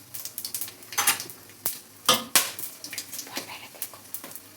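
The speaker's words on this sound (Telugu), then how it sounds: "అవి బాగా ఫ్రై అవ్వాలి." Bay leaf, shahjeera, cloves and cardamom frying in hot oil, heard as a run of close metallic clinks and scrapes from a spoon against the pan over a soft background sizzle.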